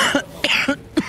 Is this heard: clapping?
no